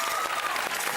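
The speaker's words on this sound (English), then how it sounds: "And a round of applause for Hamish Blake" A studio audience at a Christmas special of a TV music quiz show applauds comedian Hamish Blake, a dense, steady wash of clapping that holds at full strength for about a second, with no talk over it.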